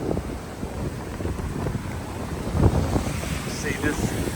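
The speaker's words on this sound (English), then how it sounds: "It's starting to get windy, man." Wind blows outdoors beside a house in Antique, Philippines, as a typhoon's rain approaches, a steady rushing roar buffeting the microphone with faint gusts, and a voice is faintly present beneath it.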